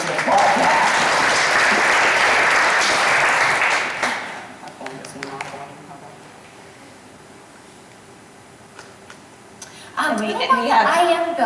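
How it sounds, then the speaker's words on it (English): An audience claps loudly at a community conversation event, the dense applause fading away after a few seconds, followed by quiet room sounds and then a person beginning to speak. "So I think that we should applaud that."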